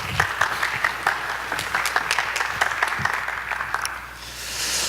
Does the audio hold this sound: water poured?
no